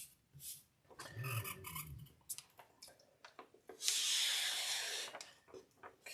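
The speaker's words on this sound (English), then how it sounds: "we're going to pull off a little more paper and squeegee that thing down on there again." A squeegee rubs a paper sheet down onto the bed of a Sovol SV03 3D printer, making a close, rasping hiss that lasts about a second after a few quieter scuffs and taps.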